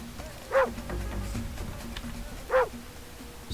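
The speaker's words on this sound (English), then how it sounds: "Man, that barking is a little annoying." A dog in the strategy game Impossible Creatures gives two short yelping barks about two seconds apart, moderately loud over a constant low game ambience with soft rumbling.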